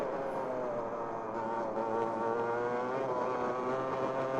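A Club100 lightweight clubman racing kart engine at Clay Pigeon circuit revs steadily under throttle, a continuous buzzing drone that holds strong and close throughout with a slight rise as it accelerates.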